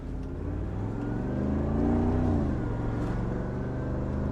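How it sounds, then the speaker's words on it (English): A Mercedes-AMG G55 W463 with its V8 engine cruising, a deep steady rumble that swells slightly in the middle, heard from inside the vehicle with no talking. "Every G-Wagon with the V8"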